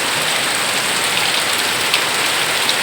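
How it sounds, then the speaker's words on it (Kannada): Heavy rain pours down steadily, a dense unbroken hiss of drops drumming on surfaces, loud and continuous throughout with no voices. "ನೋಡ್ರಿ ಮಳೆ ಎಷ್ಟು ಜೋರಾಗಿ ಬರ್ತೈತೆ"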